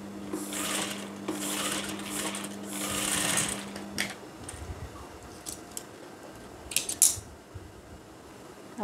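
Rapid mechanical whirring bursts from a sewing machine stitching the collar of a women's shirt, several short runs in the first half, followed by quieter clicks and handling sounds of fabric and tools.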